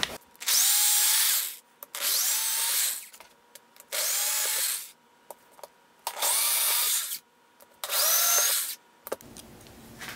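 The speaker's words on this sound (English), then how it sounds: "Got some holes to drill." Power drill boring holes in a guitar speaker cabinet, five loud bursts of whirring with rising pitch as the motor spins up, each lasting about a second with short quiet pauses and light handling clicks between.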